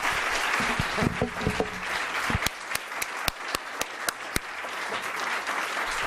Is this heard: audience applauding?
yes